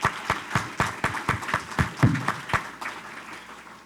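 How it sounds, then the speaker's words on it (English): A small audience claps at a city chamber gathering, with distinct, fairly loud claps in a quick uneven rhythm that thin out toward the end, and no voices over them. "Let's give them a round of applause."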